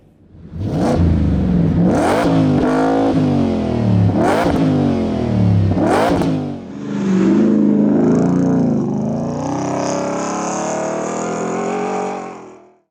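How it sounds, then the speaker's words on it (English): A 2023 Ford Raptor R pickup with a 700 hp supercharged engine revs loudly in four sharp bursts, then holds a long, rising roar with supercharger whine before cutting off. "the fire-breathing 700 horsepower supercharged Raptor R"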